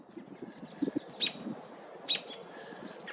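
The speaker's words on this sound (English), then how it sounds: "So, there's a little bird." A small pet bird chirps indoors, a few soft, high tweets and short calls close by, with faint rustling and quiet scratchy movement between them.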